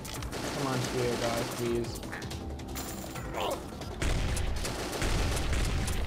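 In a zombie shooter game, shotgun blasts and mechanical pump clacks ring out in bursts amid game noise, while someone talks over the action.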